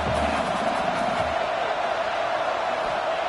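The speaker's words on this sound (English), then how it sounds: "this home crowd is fired up and ready to make a difference" Home stadium crowd at a college football game between Iowa State and Mizzou, a steady wash of cheering and crowd roar held at an even level throughout, distant and broad.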